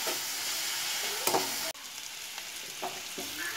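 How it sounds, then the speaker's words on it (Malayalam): Onions sauté in a pan for a tomato and drumstick roasted-coconut curry, giving a constant loud sizzle with occasional scraping stirs close by. "നമ്മുടെ ഉള്ളി വഴന്ന് വന്നിട്ടുണ്ട്."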